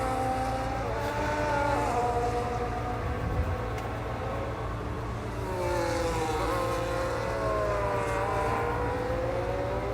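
McLaren and Ferrari race cars in a video game howl down a straight, with loud, close, continuous engine whine rising and falling in pitch as they accelerate and shift.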